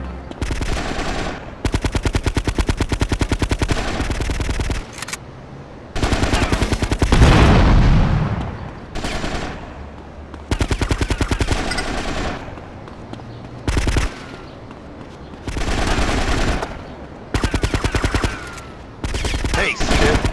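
Gunfire in the video game GTA Vice City Stories: loud automatic bursts repeat in blocks separated by short quiet gaps, with a heavier boom near the middle.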